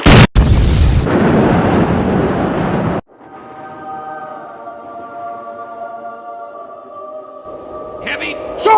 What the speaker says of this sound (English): This message will explode.